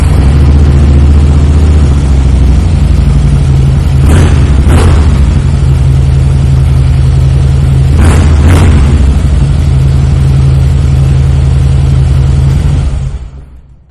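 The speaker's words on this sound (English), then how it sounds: "Those Vance and Hines slip-ons sound fantastic on this motorcycle." A 2011 Harley Davidson Softail Blackline with Vance and Hines slip-on exhaust rumbles loud and close, a deep, steady V-twin burble with two pairs of sharper revs, before cutting off near the end.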